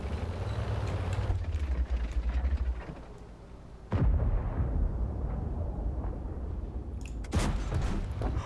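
Tank gun firing in World of Tanks, two heavy booming shots a few seconds apart over a low rumbling engine drone, loud and close.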